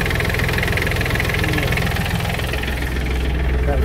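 An Iseki TK29FF tractor's engine idles close by with a steady, loud, rhythmic diesel chug and vibration throughout, no talk over it.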